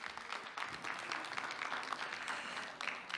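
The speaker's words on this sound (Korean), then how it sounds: "여러분 다시 한번 뜨거운 박수 보내주십시오" Audience applause closing the final session of a forum day, a dense, even patter of many hands clapping at moderate level with no speech over it.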